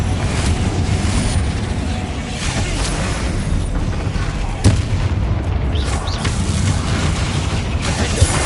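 A Confringo fire spell explodes in the Hogwarts Legacy game, a sustained roaring, rumbling blast with a sharper boom near the middle, set in a fight against spiders.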